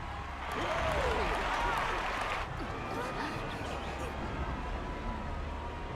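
A crowd cheers and claps in the Final Fantasy XIV Dawntrail game world, a loud swell of applause and hubbub that peaks early then settles to a softer murmuring din, with scattered voices.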